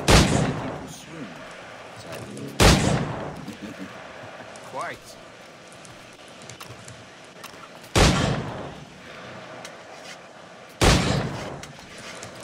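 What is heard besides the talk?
pistol shots in Assassin's Creed IV Black Flag video game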